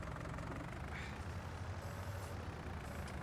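A tractor engine idles in Farming Simulator 19, a low steady rumbling drone at close range with no talk, continuous throughout.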